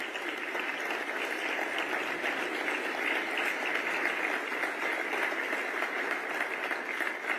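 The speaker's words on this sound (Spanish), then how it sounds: "Un aplauso para el señor Santiago Bausili," A large audience at an economics address claps steadily in a dense, even wash of applause that holds at the same level for several seconds with no speech over it.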